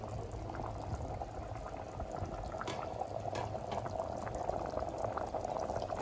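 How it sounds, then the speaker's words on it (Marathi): Chole, a chickpea curry, boils in a covered pot, giving a close, steady bubbling and gurgling that stays even and unbroken throughout. "हे बघा आता इथे मस्त उकळी आलेली आहे."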